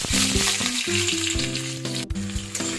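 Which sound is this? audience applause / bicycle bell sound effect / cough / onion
onion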